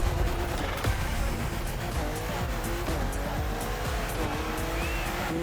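BMW M4 CSL driven in The Crew Motorfest racing game, with a loud continuous engine roar, shifting tones and tire squeal from up close.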